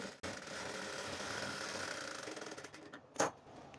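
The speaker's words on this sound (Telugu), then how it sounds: "పాదమంచు గ్యాప్లో స్టిచ్ వేసుకుంటూ" Sewing machine stitching a blouse with a shape belt on top, running as a steady continuous whir at moderate distance, with a brief sharper knock near the end.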